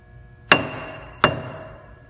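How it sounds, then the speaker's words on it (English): A hammer strikes a weight-plate workpiece seated in a lathe chuck twice, about three quarters of a second apart, each a loud sharp metallic hit with a short ringing decay, no talking. "I listen for a really dull thud from the hammer"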